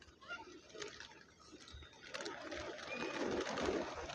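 A flock of pigeons at Porbandar Chowpatty beach, with a busy, layered flutter and rustle of wings and soft cooing that swells louder toward the end over outdoor crowd ambience.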